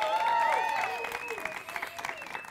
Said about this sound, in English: I think we're gonna have to not just clap, but some whoops and hollers as well.